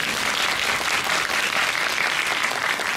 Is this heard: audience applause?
yes